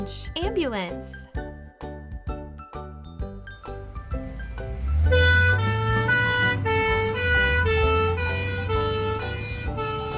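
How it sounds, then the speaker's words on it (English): An ambulance siren wails in a steady rising and falling tone over a rumbling engine, loud and close, after a run of quick clanking hits and a short spoken line. "Orange, ambulance."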